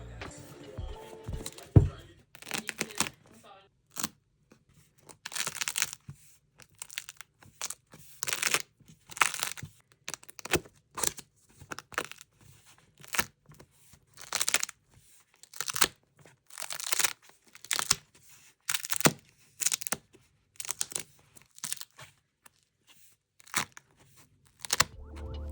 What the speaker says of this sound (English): I'm going to take away the music so you can get some ASMR page cracking